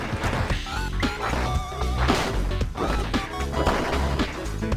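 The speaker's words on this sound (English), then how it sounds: "I'm smashing the boxes to see if they have anything in them." Repeated crunching smash and whack hits from breaking boxes in the video game Death Road to Canada, landing in a busy rhythm over dense game music.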